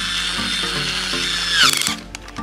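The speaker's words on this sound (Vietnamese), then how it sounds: "Đây, rồi, máy khoan." A small toy drill whirs steadily while assembling a toy dinosaur kit (tyrannosaurus), its motor pitch shifting in steps before winding down, followed by a few plastic clicks; close and fairly loud.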